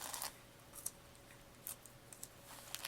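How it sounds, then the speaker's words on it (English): Tape being pulled off a comic book, a few short crinkly tearing bursts separated by brief pauses, faint and close in a quiet room. "Take the tape off."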